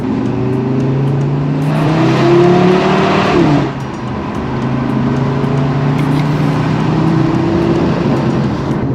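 A Cupra Formentor VZ5 with its five-cylinder engine drones loudly and steadily while driving, pitch rising under acceleration, dipping briefly as the revs fall, then climbing again, with no talk over it.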